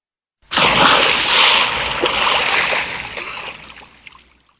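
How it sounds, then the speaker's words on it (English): Water splashes heavily in one loud burst that trails off into sloshing and dripping over a few seconds, close and alone. "Splash."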